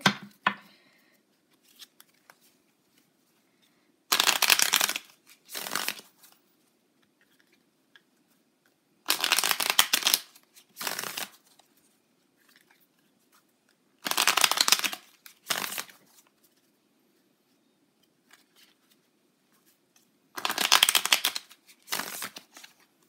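A tarot deck is shuffled in four separate bursts of crisp riffling card noise, each a second or two long with a shorter follow-up flutter, separated by long near-silent pauses.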